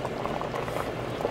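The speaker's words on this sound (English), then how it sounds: "I'm just gonna go ahead and place a little bit more water, and then I'm gonna let it boil." Water boiling in a cooking pot of beans, a continuous close bubbling and gurgling with small irregular pops throughout.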